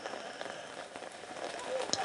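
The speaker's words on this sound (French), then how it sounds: "dans le mauvais temps, dans le froid, dans le vent, dans la pluie" Rain falls outdoors in cold, windy bad weather, a soft continuous patter with occasional sharper drops, fairly faint and steady.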